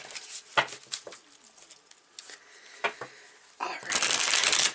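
A deck of tarot cards is shuffled in quick, uneven riffles and flicks close to the microphone. The clip ends in a louder burst of dense riffling, and faint bird calls sound in the background.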